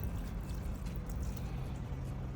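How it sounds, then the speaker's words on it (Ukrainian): Water spraying and splashing from a small solar-panel powered fountain, a steady hissing, bubbling wash with no pauses over a couple of seconds. "він створює отакий от тиск води і просто вона собі виходить"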